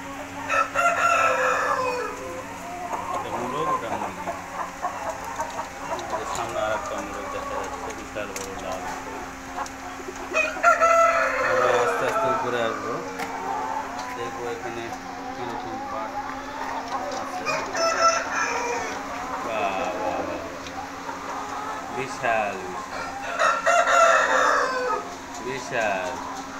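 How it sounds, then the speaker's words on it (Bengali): Roosters and hens crowd a broiler parent stock farm in a Bangladeshi village, with repeated crowing and clucking from many birds near and far, while people talk over the flock. "এখানে মোরগ এবং মুরগি একসাথেই করা আছে"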